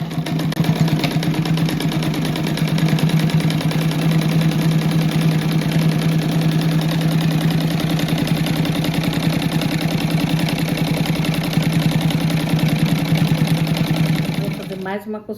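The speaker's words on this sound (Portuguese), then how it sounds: "Encosta o pé da máquina na primeira costura, e só vai seguindo." A sewing machine stitches a patchwork rug in a fast, steady mechanical chatter that runs close and loud for about fourteen seconds before stopping abruptly.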